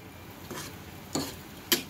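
Potatoes and bitter gourd with spices, turmeric and salt frying in a pan, a low sizzle broken by two sharp clinks of a spoon or spatula against the pan.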